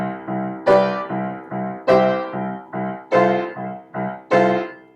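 Piano playing the chords of a song with both hands, a steady rhythm of short repeated chord stabs with brighter accented hits every few beats, loud and close with no talking.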